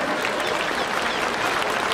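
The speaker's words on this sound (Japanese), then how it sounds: "どうぞ拍手をお受けください。" Stadium crowd applauding at a baseball game just before the ceremonial first pitch, a broad, even roar of clapping that fills the whole moment without letup.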